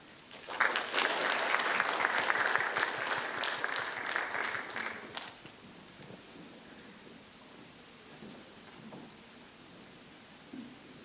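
An audience applauds at the 2021 Australian Poetry Slam, dense clapping for about five seconds before it fades away into quiet room tone and faint murmurs.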